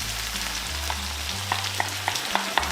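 Tomato puree bubbles in a frying pan while a utensil stirs it, giving a soft continuous sizzle with a few light clicks and scrapes toward the end.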